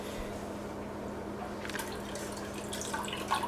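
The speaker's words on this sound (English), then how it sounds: "you're going to try and separate out most of the brine" Brine draining off salted cabbage for kimchi: a soft, steady trickle and drip of liquid, close and fairly quiet, with a few brighter splashes and spatters in the second half.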